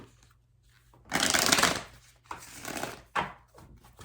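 Tarot cards riffle in three quick bursts, crisp and close, separated by short pauses of near silence.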